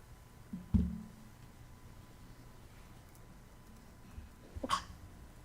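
A single sharp, abrupt sneeze during a city council meeting, fairly close and loud, followed by quiet room tone and a second short burst near the end.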